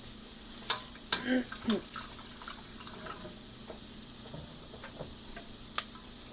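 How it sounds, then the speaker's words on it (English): Sausage gravy of milk, flour and fat stirred in a pan, with a soft bubbling simmer and light intermittent scrapes and taps of the utensil, close and quiet. "keep stirring. You won't get any lumps Clumps or bumps."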